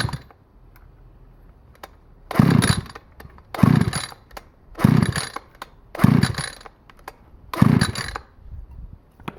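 Rebuilt Stihl FS86 string trimmer engine on choke, primed with starting fluid, sputtering through five short revving bursts about a second apart, close and loud, with no talking.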